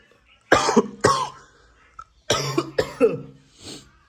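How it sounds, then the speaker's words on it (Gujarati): A person with a cold coughs hard and close by in a room, four harsh bursts in two pairs with short pauses between, then a softer throat sound at the end. "ઉધરસ તો બહુ જ થઈ ગઈ મને"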